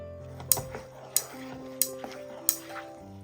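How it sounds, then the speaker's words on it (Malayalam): A spoon stirs a thick sweet mixture with a spoonful of ghee added in a pan, giving four sharp scraping clinks at an even pace, close and moderately loud, with a low steady hum beneath. "ലാസ്റ്റിൽ നമുക്ക് ഒരു ടീസ്പൂൺ നെയ്യും കൂടി ചേർത്ത് കൊടുത്തിട്ട് ഒന്ന് ഇളക്കി കൊടുക്കാം"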